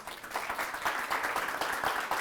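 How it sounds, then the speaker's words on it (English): Audience applause closing a legal talk at a startup meetup, a steady wash of many hands clapping at moderate distance for about two seconds with no voices over it. "Round of applause, please, for Frano."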